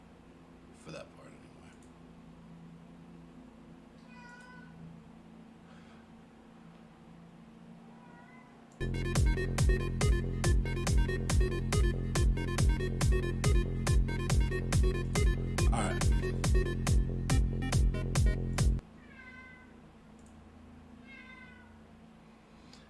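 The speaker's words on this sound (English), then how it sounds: "Cats." Cats meow several times in short, high cries, fairly close, with a person talking over them. A loud, steady, rhythmic burst fills the middle stretch, then the meowing returns.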